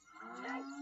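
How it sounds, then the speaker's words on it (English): A cow in the video game Ocarina of Time lets out a single short, tonal moo, faint and close, with a steady pitched drone through the call. "It's a cow!"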